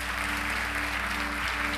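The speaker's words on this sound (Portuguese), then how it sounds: "Aplauda o nome do Senhor Jesus." Sustained applause from a church congregation, a dense, continuous clapping roar over a low steady hum, spread across a large room.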